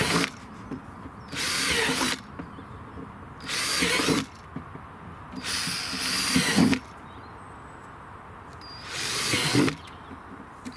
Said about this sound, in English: that's not bad drilling that, freehand